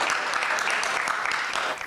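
Steady applause from a crowd at a school alumni reunion, a continuous dense clatter of clapping that holds evenly before fading slightly.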